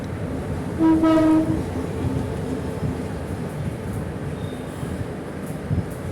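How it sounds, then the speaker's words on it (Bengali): A train passes nearby on a Bangladeshi railway during Eid travel, with a loud horn blast near the start, then a continuous rumble of rolling wagons and faint clatter, with no voices. "এই যে দেখেন ট্রেন আরেকটা আসছে ক্রস করছে"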